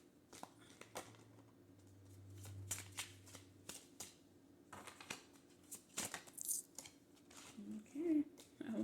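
A deck of cards being shuffled, with repeated riffles and soft taps at an irregular pace, and quiet talking in the background.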